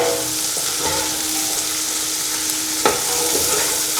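String beans fry and sizzle loudly in a pan with pork, a continuous close hiss for adobong sitaw. A brief stir or clatter of the spoon comes near the end, and no one speaks.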